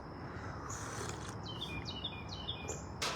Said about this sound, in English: Birds singing along to us.